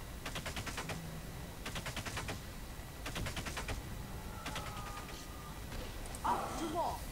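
Cannon fire in the strategy video game Paraworld, repeated rapid bursts of rattling shots in several volleys, moderately quiet, with game voices and a player talking around them.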